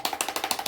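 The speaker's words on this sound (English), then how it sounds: "That sound you hear is me ringing the bell, smacking the brush from side to side." A wet paintbrush clatters rapidly from side to side inside a water container during acrylic painting, giving a quick, even run of about eight close, sharp taps with no voices.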